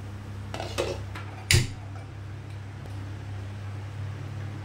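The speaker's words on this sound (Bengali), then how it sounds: "আমি কড়াই চাপাবো।" A wok set down on a gas stove, a sharp metallic clank standing out from a few lighter knocks and rattles over a low, steady kitchen hum.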